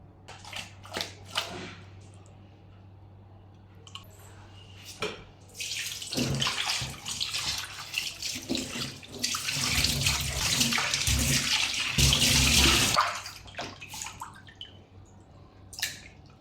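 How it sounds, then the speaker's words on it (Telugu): Tuna fish pieces rubbed with salt and turmeric are rinsed in water, with scattered drips and splashes building into a longer rush of running, sloshing water before settling back to light drips. "ఉప్పు పసుపు వేసేసి నార్మల్గా గట్టిగా కలపకుండా నాకు కుదుపుకొని వాష్ చేసేసుకుంటే నీట్గా అయిపోతుంది"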